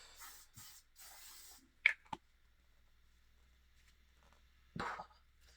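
A short hissing burst of hairspray from an aerosol can, close and distinct, after some quiet rustling and two sharp clicks, at a concert in Manchester.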